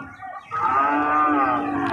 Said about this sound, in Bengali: দেখেন কত সুন্দর গরু